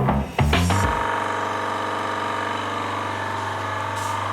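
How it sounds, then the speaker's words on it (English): An air-conditioning recovery machine degasses a Range Rover Sport's aircon system, starting with a few clunks and rattles before settling into a loud, steady mechanical pumping hum that runs on without a break. "So I'm just degassing the aircon system now."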